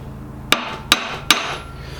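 Three sharp, loud hammer blows ring out one after another against an A-series engine part as it is knocked into moving, each strike trailing a short metallic decay.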